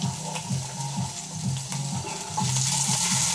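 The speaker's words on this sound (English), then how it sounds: "Sizzling away on there, they're absolutely wonderful." Scallops and salmon sizzle on a hot tin fresh from the oven, a steady bright frying hiss over a rhythmic low mechanical rattling that repeats throughout.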